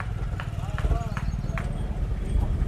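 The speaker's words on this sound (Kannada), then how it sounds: "ಹೊಲಗಳಿಗೆ ಹೊರಟಂಥ ರೈತರ ಬಂಡಿಗಳು," Farmers' carts rolling along a village road, with a steady, even clip-clop of hooves close by under continuous talking.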